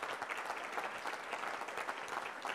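Brief round of applause from a seated and standing audience at a campus gathering, a dense patter of many hands clapping at moderate distance, steady throughout.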